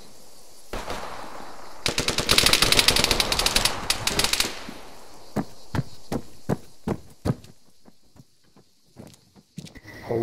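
Bursts of automatic gunfire in the video game Argo, a dense loud volley of rapid shots followed by spaced single and double shots trailing off, with no talk.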